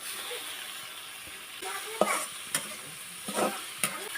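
Small cubes of meat and diced potato fry in a pan, giving a soft sizzle under a few clattering stirs and scrapes of a spoon, some louder than others, with no talk over them.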